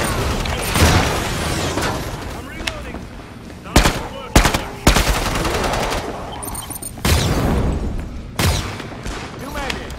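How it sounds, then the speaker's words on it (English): Rapid automatic gunfire from the co-op zombie shooter Killing Floor 2, with loud bursts and sharp single shots repeating over a steady game backdrop, along with faint talk. "I shot that guy like 3 times."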